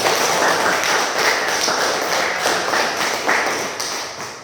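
Group of people in a classroom applauding together after presentations, a dense, steady wash of hand claps held for several seconds before tapering slightly at the end.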